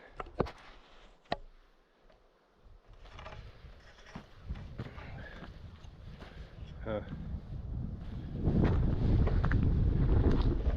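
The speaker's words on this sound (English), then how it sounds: "Windy." Gusty wind buffets the microphone, rumbling low and growing stronger toward the end, with a few sharp knocks early on.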